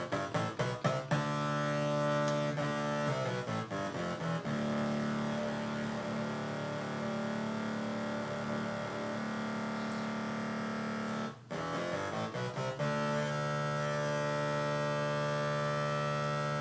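Kurzweil PC3 synthesizer playing an 8-bit style patch, its low end swelling back in through the mod wheel; a loud, sustained buzzy tone with steady harmonics, brief gaps near the start and around the middle.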